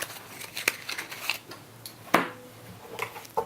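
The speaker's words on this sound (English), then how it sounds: "In the advanced game, you also shuffle the objectives and pass them out to each player." Cards for the Sarah's Singularity board game are shuffled and handled close by, with soft papery riffles and a few sharper slaps at an uneven pace against light room noise.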